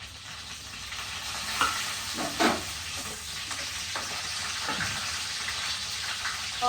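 Dried red chillies and cumin seeds crackle and sizzle in hot oil, a steady close frying hiss with a few sharper pops and stirring scrapes, no voices.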